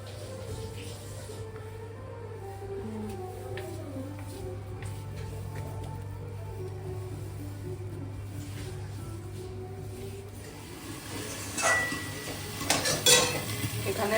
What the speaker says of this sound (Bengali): এখানে লাউয়ের খোসা ভাজা